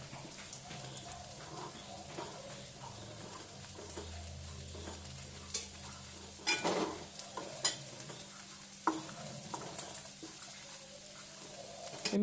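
Grated coconut roasting with curry leaves in a pan over medium flame for a Kerala chicken and Chinese potato curry gives a soft, continuous sizzle with scraping stir strokes and a few louder clanks, close and without talk.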